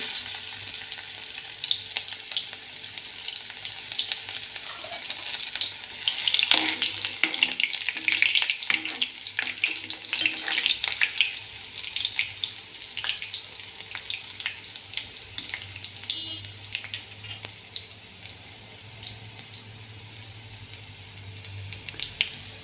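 Garlic sautéing in a pan sizzles steadily up close, with a louder surge of crackling and stirring midway that eases into a softer hiss, and no one talks.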